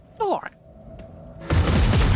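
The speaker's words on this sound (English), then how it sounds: "I was expecting an explosion, not a directed flame turret" Directed flame turret in the video game Rogue Trader erupts into a loud, sustained roaring blast that starts abruptly after a brief stretch of chirpy game sounds and quieter ambience, holding steady to the end.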